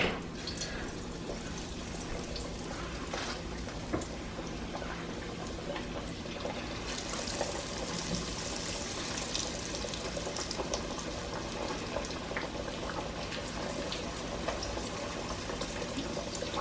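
Battered chicken wings fry in hot oil for Chinese takeout-style wings, giving a steady, fairly quiet bubbling sizzle that continues evenly with no talking.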